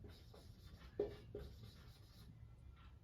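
Marker or chalk scratching on a classroom board gives a few short, faint strokes with a brief tap, fairly quiet against a soft background.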